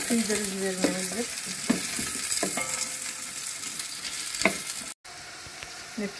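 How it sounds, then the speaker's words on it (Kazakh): Sliced onions fry in a pot of hot oil with a steady close sizzle, broken by occasional scrapes and clinks of a stirring spoon, with no talking. "Piyazımızı olsa жақсылап қуырып алдық."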